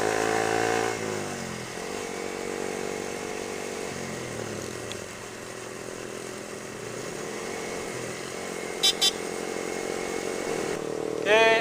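Motorcycles on a group ride roar steadily as riders overtake one another, with a continuous close engine drone shifting pitch over several seconds and a brief higher whine near the end.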